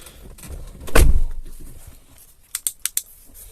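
A car door on a Toyota Kijang Grand Extra shuts with one solid, close thud, followed a moment later by a quick burst of faint light clicks.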